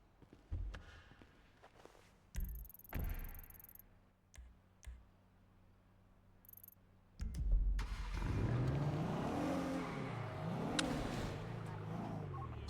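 Cars driving in a GTA roleplay game, with scattered clicks and thumps early on, then a louder stretch of engine noise rising and falling in pitch as vehicles rev and pass, fairly close, with a voice briefly present.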